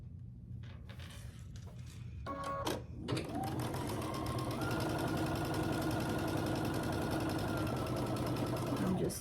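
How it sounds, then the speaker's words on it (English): A sewing machine stitching quilt sashing and blocks into rows starts after a few clicks and handling noises, then runs in a steady, continuous hum at close range for several seconds. "I'm just sewing the sashing and the blocks together into rows of 9 long."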